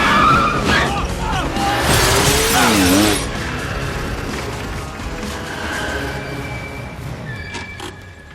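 Film car chase with loud tire skidding and crashing, a burst of squealing and impact around the middle, then engine noise and lighter skids trailing off.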